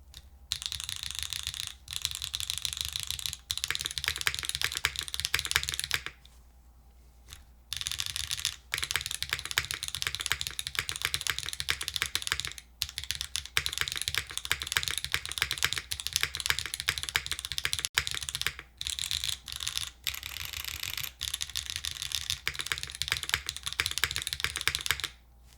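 Dense, steady typing on a Paper 65 mechanical keyboard with gaskets, close and clacky with rapid keystrokes, broken by a few brief pauses.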